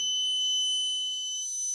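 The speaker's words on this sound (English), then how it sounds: "and buzzer is also turned on." A steady, piercing alarm tone from an MQ6-based LPG gas leak detector buzzer drones on without a break. It sounds alone, with no voices.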